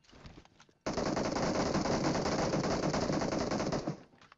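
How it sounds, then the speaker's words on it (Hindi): Heavy automatic gunfire in a shooting video game, a dense, sustained rattling burst lasting about three seconds, loud and close, with a few scattered shots before and after. "लेकिन गाइस फायरिंग बहुत ज़्यादा हो रही है"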